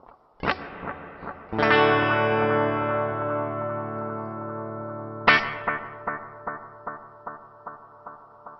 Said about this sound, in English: you can hear that the delay reflections are going through the reverb